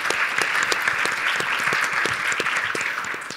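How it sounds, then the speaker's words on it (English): Conference audience at a bioscience expo breaks into steady applause, many hands clapping close and dense at even loudness, tapering slightly at the end. "So please give Randy a big"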